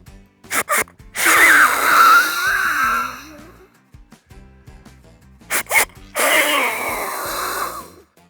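A voice imitates a whitetail deer's snort-wheeze: sharp puffs of breath followed by a long, raspy hissing exhale, done twice, loud and close.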